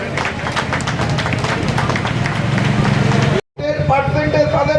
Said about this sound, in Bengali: সবাই হাততালি দিয়ে স্বাগত জানান